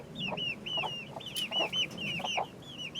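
Poultry in a pen with their mothers, apart from the big flock, give a steady run of soft repeated clucks and chirps over low farmyard background noise, with no talking.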